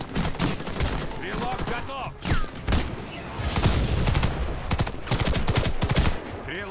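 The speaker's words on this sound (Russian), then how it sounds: "По мне стреляют" Rapid automatic gunfire rattles in dense bursts in the Warface shooter, with overlapping shots and a few louder reports near and far, while a voice speaks briefly over the firefight.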